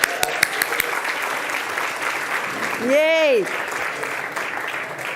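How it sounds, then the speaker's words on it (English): Conference audience applauding at the morning opening of a local governments retreat, a steady broadband clatter of many hands filling the room, with a cheer rising briefly in the middle. "I agree to start with an applause"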